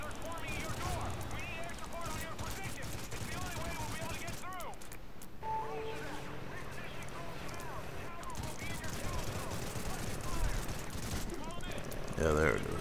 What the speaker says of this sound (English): you get your fourth strafing run